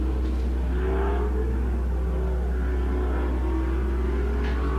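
An Ultra4 4500 Modified off-road race car picks through a rock zone at the Ultra4 Nationals, its engine revving and whirring in uneven surges over a constant low drone, heard from a moderate distance with no talk.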